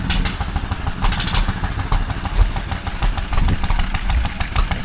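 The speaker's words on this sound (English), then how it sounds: "Starting up some more stationary engines there." Several vintage stationary engines at a Parham commercial vehicle and steam show run with a steady, knocking low-pitched chug and clatter, fairly close and continuous, blending with other machinery around the showground.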